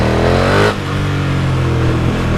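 A KTM Superduke 1290 R motorcycle engine revs loud and close, its pitch climbing fast before a brief dip as it shifts, then pulling hard again in a steady accelerating drone.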